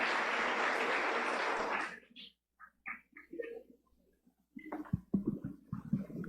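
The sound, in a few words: applause for a speaker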